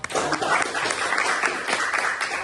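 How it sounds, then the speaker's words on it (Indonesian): Students clapping in a classroom to applaud a classmate during a lesson, a brief, steady burst of many hands clapping together. "Ya, tepuk tangan buat."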